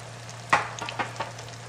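Eggplant slices frying in an uncrowded pan, a steady low sizzle with a few brief crackling pops and stirring clicks, close by and fairly quiet, with no voices.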